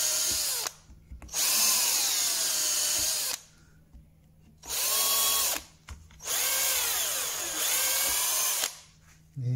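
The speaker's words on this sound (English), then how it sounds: "I can drill a bit further." Small drill with a bit ground to a taper, boring holes sized for tiny carriage clock screws during a shelf repair; high whirring bursts run in three or four spells with short pauses between, close and loud, with no talking.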